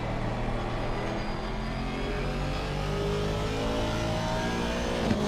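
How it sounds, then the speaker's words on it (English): A race car engine drones steadily in Assetto Corsa Competizione at Imola, a continuous mid-level whine with gradual pitch sweeps as it revs through gears, heard alone without talk. "Let me hear the sound of the engine."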